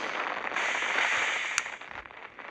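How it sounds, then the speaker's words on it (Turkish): A nuclear bomb detonates in the video game Melon Sandbox as a sustained hissing, crackling roar that swells over about two seconds, with one sharp pop near the end before it fades. "Böyle kafaya nükleer bomba düşürmüş sonra. Sonra bu patlıyor."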